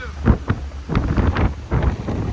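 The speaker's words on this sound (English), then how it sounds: "Windy today too" Gusty wind buffets the microphone in loud, uneven rumbling bursts, with a steady low roar underneath.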